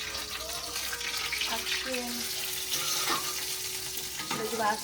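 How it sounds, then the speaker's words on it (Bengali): Pakoras frying in a pan give a steady, close sizzle with stirring and utensil clatter over a broadband hiss, tonal kitchen sounds briefly rising above it. "কারি এখন তো পকোড়ি সেকছি"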